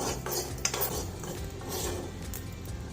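Mustard seeds fry in a kadai while tomato pickle is being made. A metal ladle scrapes and clinks against the pan over a continuous crackling sizzle, close and fairly loud, with no talking.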